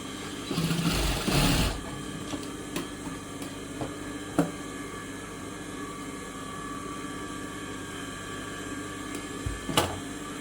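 An electric sewing machine stitches a blouse with a brief loud burst of running at the start, then settles into a faint, steady background hum with a few light clicks.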